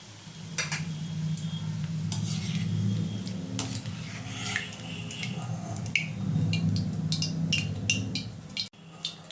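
Chowmein pakoras frying in oil, giving a low steady sizzle under frequent close clinks and scrapes of a utensil against the pan.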